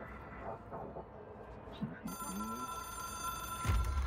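A telephone rings in the video game Control, an old-style bell ring with steady tones that start midway and continue, while a voice talks over the start.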